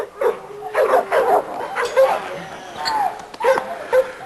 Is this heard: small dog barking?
yes